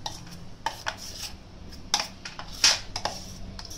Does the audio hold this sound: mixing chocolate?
yes